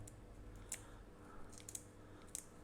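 Scissors snip at a large prawn's shell, giving three sharp, close clicks spaced about a second apart over a quiet, steady low hum.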